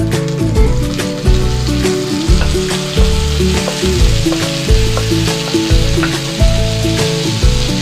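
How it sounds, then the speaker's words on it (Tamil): Tomatoes sautéing in a hot pan for tomato upma, loud close sizzling with rhythmic stirring scrapes recurring about every second, no speech. "இப்போ நான் தக்காளி போட போறேன்"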